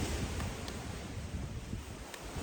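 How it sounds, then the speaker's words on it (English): Pacific Ocean surf at Kealakekua Bay on Hawaii's Big Island rolls as a steady, broad wash of noise with wind buffeting the microphone throughout. "You can hear the Pacific Ocean just behind me."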